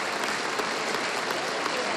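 Dense, steady applause fills the Czechoslovak parliament chamber after the vote dissolving the federation, a sustained wash of many hands clapping with no pauses or voices standing out.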